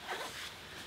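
Zipper on the detachable sleeve of a convertible winter cycling jacket, one quick rasping pull up close, heard alone.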